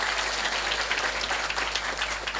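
Dense audience applause fills a gathering at a religious talk in Cilongok, Banyumas, a steady wash of many hands clapping without a break, loud and close throughout the short stretch.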